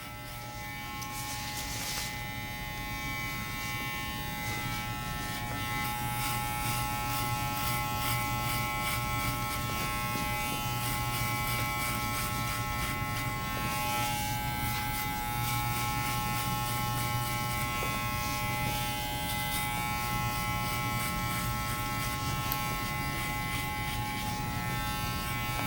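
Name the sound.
electric hair clipper cutting hair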